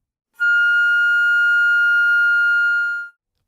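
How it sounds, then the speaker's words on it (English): A flute sounds a single sustained F natural in the third octave, a pure, steady high tone held for nearly three seconds, clean and close with no other sounds. "To finger an F natural in the third octave"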